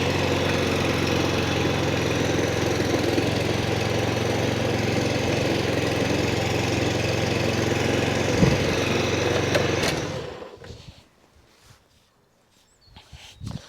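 A lawn scarifier rumbles with a steady engine drone as it runs over a wet lawn cutting grooves through thatch, loud and continuous, then cuts out near the end, leaving quieter rustling.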